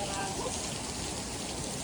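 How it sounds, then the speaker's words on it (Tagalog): Heavy rain pours at a beach resort in Calatagan, Batangas, a dense, steady hiss of rainfall on surfaces that fills the whole stretch without a break. "Umulan na naman dito mga katao. Grabe ang ulan. Ang lakas-lakas."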